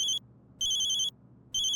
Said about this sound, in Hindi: फोन आया।